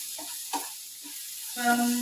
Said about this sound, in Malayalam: കോവയ്ക്ക മെഴുക്കുവരട്ടി ആയിക്കൊണ്ടിരിക്കുന്നു.